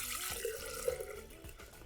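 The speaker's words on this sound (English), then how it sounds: "We're gonna pour our mix in here and then let it churn." Pumpkin spice latte ice cream mix is poured into a frozen ice cream maker bowl, giving a brief, soft liquid splashing and trickling that is fairly quiet and close, with no talking.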